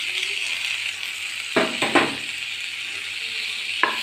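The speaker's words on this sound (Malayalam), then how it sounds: "അത് മിക്സ് ചെയ്യണം." Potato vada filling with chopped tomato and salt is stirred in a frying pan over a steady low sizzle, with a few close spoon scrapes against the pan and no talking.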